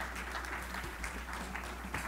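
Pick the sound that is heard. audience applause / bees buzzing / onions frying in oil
audience applause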